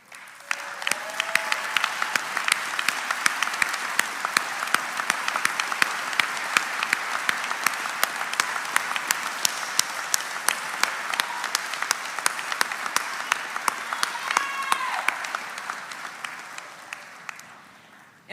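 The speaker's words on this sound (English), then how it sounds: "Will all of you please stand so that we can give you a round of applause" A standing graduation audience at a shipbuilding apprentice school ceremony gives a long, steady round of applause, with sharp individual claps standing out and a few faint voices before it tapers off.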